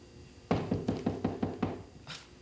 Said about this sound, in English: Who could that be? Knocking on the door?